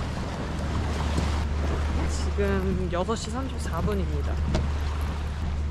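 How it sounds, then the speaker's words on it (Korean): A speedboat engine drones steadily and low on the sea off Thailand heading to Koh Tao, with wind and water rushing past as a person speaks over it. "보트 타러 갑니다. 스피드 보트."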